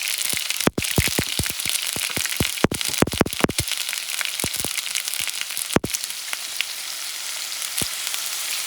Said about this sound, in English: And I'm going to saute this baby. Using the same oil so you get the fish taste.